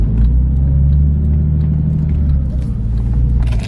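A Porsche 996 with a valved exhaust set to loud mode idles and revs with a deep, steady rumble, close and loud throughout, with no talk.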